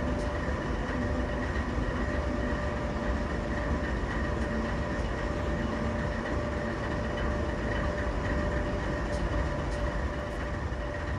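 A locomotive in the Open Rails train simulator backs slowly onto waiting wagons in a rail yard, giving a continuous loud engine drone with a steady tonal hum and faint clicks, with no talk.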